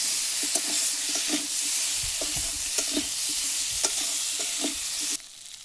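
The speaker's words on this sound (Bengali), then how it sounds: "দিয়ে দেবো একটু হলুদ গুঁড়ো আর আদা বাটা, ভালো করে একটু কষিয়ে নেবো" Turmeric powder and ginger paste fry in hot oil, a steady close sizzle broken by repeated soft scrapes of a spatula stirring the pan, until the sizzle stops abruptly near the end.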